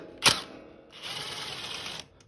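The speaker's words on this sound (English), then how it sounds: "Put the wrench on it." Wrench backing a nut off a sway bar bolt on a motorcycle: one sharp metallic click up front, then about a second of close, steady ratcheting rasp that cuts off.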